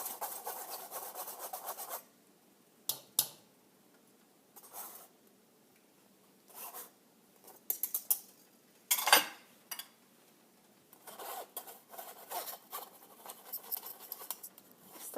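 Meat sauce for tamales being pushed through a strainer in bursts of scraping and rubbing, with short irregular strokes separated by pauses, close and fairly quiet.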